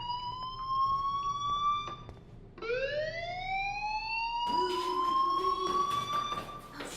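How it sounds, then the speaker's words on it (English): Fire alarm ringing in the video game Life is Strange: a loud electronic tone with rising sweeps, repeating continuously for several seconds with no talk over it. "Hey, do you hear that fire alarm?"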